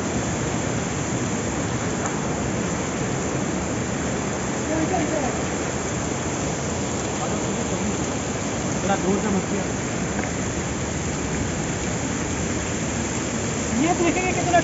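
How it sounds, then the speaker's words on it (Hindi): Pandav Falls waterfall at Panna, a steady broadband roar of continuously running water, close and unbroken throughout with no pauses. "जिसको रनिंग वाटर बोलते हैं, लगातार पानी आ रहा है"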